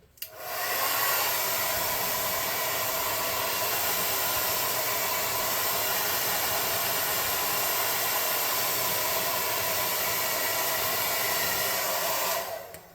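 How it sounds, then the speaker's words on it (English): A hair dryer blows steadily to dry a handmade tabletop-game smelter prop, switching on with a loud continuous whooshing hiss that holds for about twelve seconds before cutting off. "I'm going to blow dry it off screen real quick"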